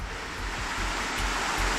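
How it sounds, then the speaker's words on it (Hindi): A fast mountain stream of water rushes with a loud, continuous roar that stays steady and dense throughout, with no voices over it. "इतनी तेज पानी की आवाज़ आ रही है, पानी की बहुत तेज धारा"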